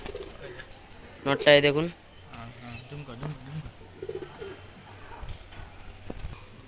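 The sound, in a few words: pigeons in a loft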